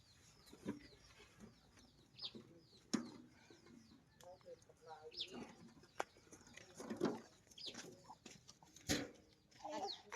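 Chickens and other poultry on a Lao farm, with several soft coos and clucks scattered throughout, and someone talking over them.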